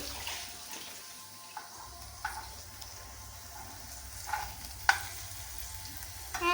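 Peanut chutney sizzles in a hot pan with a soft steady frying hiss, punctuated by a few scattered sharp pops and spatters and a louder crackle midway, with no voices.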